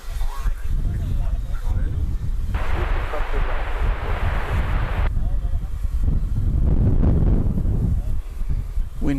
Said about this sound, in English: Wind picking up.